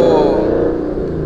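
A Dodge Challenger's engine revs with a loud, close rumble that drops and settles toward a steady idle over a second, with no talk over it.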